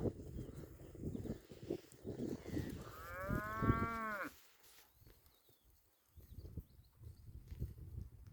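A calf about one and a half months old gives a single drawn-out moo over faint rustling and shuffling farmyard noise.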